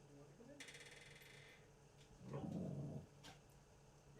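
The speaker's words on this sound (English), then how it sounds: "she's barking at the neighbors for some weird fucking reason" A dog in a house barks and growls at the neighbours, giving a short burst of barking that is fairly faint and heard at some distance, mixed with light background noise.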